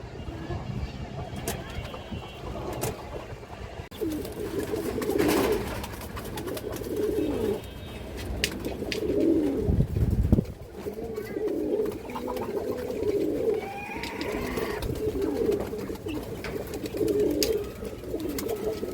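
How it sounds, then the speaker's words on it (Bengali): A khaki male racing pigeon of the Rodline strain coos in low, rolling phrases that repeat steadily across the clip, close by over a busy background of other birds and faint noise. "রোডলাইনের খাকি নর কবুতর মাশাআল্লাহ, খুব সুন্দর একটা কবুতর"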